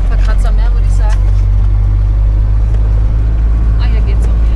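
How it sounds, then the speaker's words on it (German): A family van driving offroad on a rough track in Greece rumbles loudly, with a steady low engine and road drone and short, repeated high squeaks from the body, while people talk over it. "Was quietscht immer so böse an unserem Auto?"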